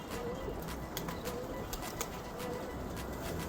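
Red zalfinat pigeons cooing softly in a loft, a few low repeated coos against faint background noise and light rustling, fairly quiet and close.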